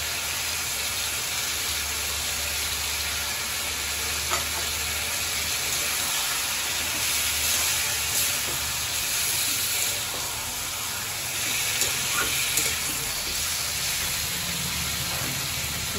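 Chopped tomato and ginger-garlic paste frying in a pan for chicken curry, a steady broad hiss and sizzle running throughout with faint scattered crackles and no talk.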